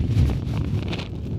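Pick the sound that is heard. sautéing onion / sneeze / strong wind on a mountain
strong wind on a mountain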